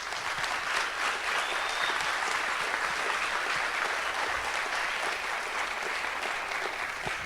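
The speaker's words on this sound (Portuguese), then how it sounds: "só queria uma salva de palmas para ele também" Audience applause at a tech talk fills the room, a dense, steady wash of many hands clapping from start to finish with no voices over it.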